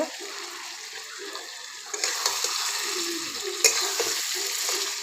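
Chicken sautés in tomato sauce on an electric heater, a low sizzle that swells into a fuller, wetter frying hiss partway through, with a few stirring knocks, close and steady.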